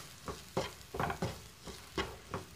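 Fried rice with carrot and capsicum is stirred in a pan, with a series of scraping, tossing strokes roughly every half second over a soft, steady sizzle, close and clear with no talking.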